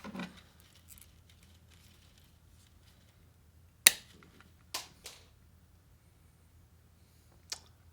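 A very thin, pliable wire used to hang sound panels is cut, giving a few sharp isolated snaps spaced seconds apart, one loud and the others fainter, over a quiet low hum.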